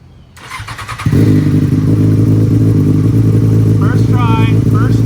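A fuel-injected 2008 Yamaha FZ6N motorcycle cranks briefly and fires on the first try, then settles into a loud, steady close-up idle with a few light blips of throttle; a voice is faintly heard over the engine.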